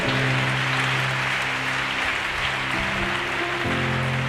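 Continuous dense clapping from a large church congregation, loud and steady, over a low sustained droning tone.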